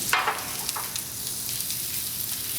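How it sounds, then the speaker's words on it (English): Onions and garlic sautéing in a pan, a steady close sizzle with a few brief stirring scrapes near the start. "So we're sauteing the onions and garlic until soft and fragrant."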